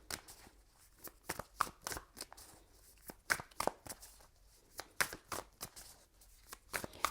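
Crisp riffling and slapping of tarot cards being shuffled in quick bursts, close up, with brief pauses between rounds and no voices.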